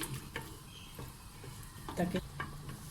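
White kidney beans with garam masala and black pepper cook in a pan, giving a low sizzle with a few scraping stirs of a spoon, fairly quiet and steady throughout.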